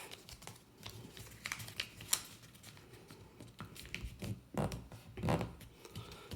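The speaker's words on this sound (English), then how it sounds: "Fold them in half." Origami paper being folded in half for a ninja star and creased down firmly, close and fairly quiet, a string of crisp paper rustles and sharp crackles with short pauses, no talking.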